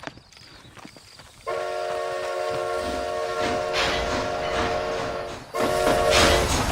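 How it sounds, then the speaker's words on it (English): A train running in the video game Red Dead Redemption Undead Nightmare, its steam whistle sounding a long sustained chord over a steady rumble of rolling wheels, with a second whistle blast near the end. "Is this train headed for Mexico?"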